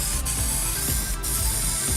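A steady, loud hiss of a spray can spraying paint onto a car bumper runs continuously up close, with faint rustling in the background.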